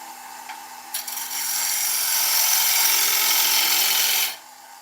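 A wood lathe turns an oak bowl blank while a tool cleans up the tenon, a steady broadband scraping hiss that swells in after a second and holds loud before cutting off near the end.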